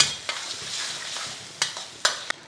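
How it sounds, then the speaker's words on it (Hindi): Dragon chicken sauce with green onion stir-fried on high flame, giving a steady hissing sizzle broken by a few sharp spatula strikes and scrapes against the pan, close up and without voices. "इस तरीके से हाई फ्लेम रहेगा, 2 मिनट के लिए इसको इस तरीके से कुक करेंगे।"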